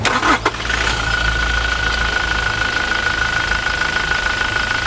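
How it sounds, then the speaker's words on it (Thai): A 2021 Toyota Hilux Revo 2.4 diesel pickup cranks and fires with a short burst at the start, then settles into a steady, even idle rumble heard up close with no talking. "ไปเดี๋ยวเราฟังเสียงเครื่องยนต์กัน"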